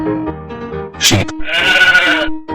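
A cartoon sheep gives a loud, wavering bleat up close, set over light background music after a brief sharp accent, with no talk.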